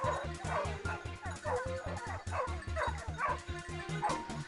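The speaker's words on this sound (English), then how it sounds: "the urgent barking of the hounds signaled the prey's location." Hunting hounds bark in a forest during a wild boar hunt, a steady, rapid series of yipping, whining barks repeated about every fifth of a second throughout, fairly close.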